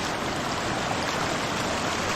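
A river flows through a mountain forest in a steady, even rush of moving water, a moderate and unbroken wash with no voices.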